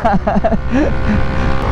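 A Suzuki Raider motorcycle with a power pipe exhaust rides along an open highway, its steady engine drone loud and close; a voice speaks briefly at the start before the engine sound carries on alone.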